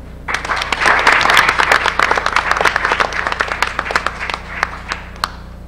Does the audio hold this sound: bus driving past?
no